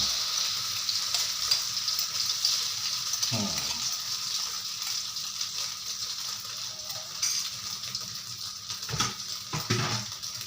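Steady, crackling sizzle of eggs with candlenut frying in hot oil, with a couple of soft clinks of a utensil against the pan partway through.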